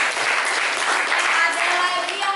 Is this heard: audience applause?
yes